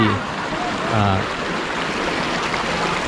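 Stream water flows steadily in a continuous rushing wash beside a riverside restaurant in Bo Kluea, Nan, Thailand, close by, with no voices.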